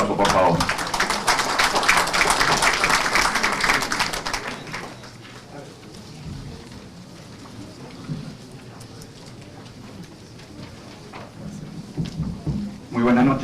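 Audience at a legal conference on the new criminal procedure code breaks into loud, dense applause that lasts several seconds, then fades under a murmuring room and a voice speaking nearby, with a brief swell of noise at the end.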